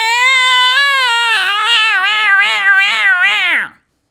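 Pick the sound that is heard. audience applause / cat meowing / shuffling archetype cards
cat meowing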